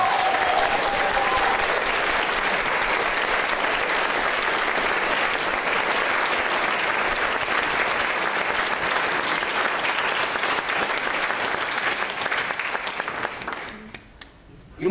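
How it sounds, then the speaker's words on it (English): Sustained applause from a large audience at a Toastmasters speaking event, loud and steady for about thirteen seconds before tapering off and stopping near the end. "Please give him a big warm applause."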